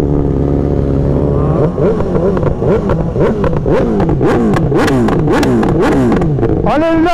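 A BMW S1000RR superbike engine idles loudly up close, then is blipped repeatedly in quick, sharp revs that climb and fall in a rapid aggressive rhythm, with crackling bursts between throttle stabs.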